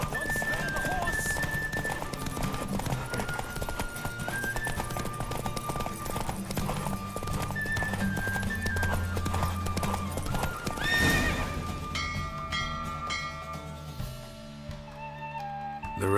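A horse gallops in a race in The Witcher 3, rhythmic hoofbeats with neighs under game music and character voices calling out, ending in a musical flourish.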